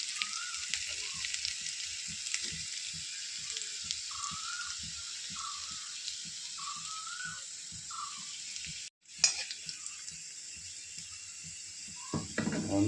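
Dried red chilies and chopped ginger frying in hot oil, giving a steady, close sizzle with soft crackles throughout and a brief clatter near the end.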